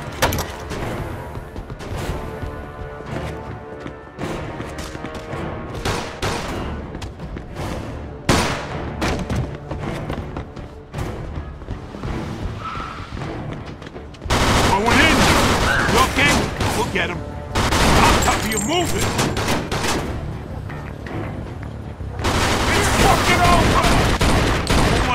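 Gunfire in the video game Mafia 2, loud bursts of rapid shots and booming volleys repeating through a firefight, mixed with characters' shouted dialogue.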